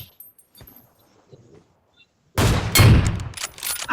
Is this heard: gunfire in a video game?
yes